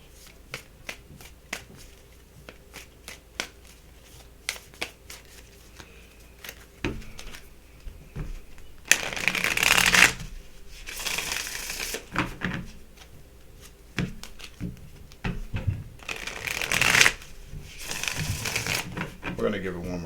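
Tarot cards are riffle-shuffled and handled close by, with crisp bursts of fluttering cards and scattered taps between them, alongside light handling sounds.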